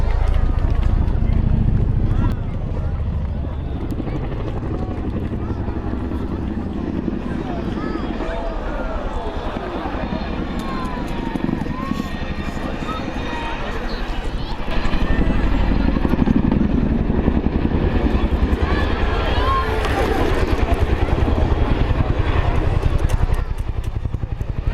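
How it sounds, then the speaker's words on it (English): A Chinook twin-rotor helicopter flies a display at an airshow, a loud rhythmic rotor thump and engine roar that rises and falls as it passes, with an announcer's voice over it. "please welcome the 2015 Chinook display team"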